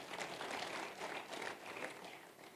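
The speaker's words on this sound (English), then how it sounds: "Please clap for him." An audience applauding a mentee at a sales masterclass, steady clapping that swells and dips across the whole stretch with no talk over it.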